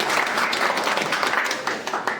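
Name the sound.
applause at party meeting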